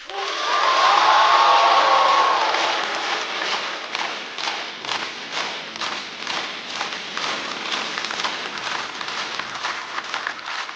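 A stand-up comedy audience claps and cheers to welcome a comedian onstage, a loud swell of crowd noise at first that settles into sustained rhythmic applause.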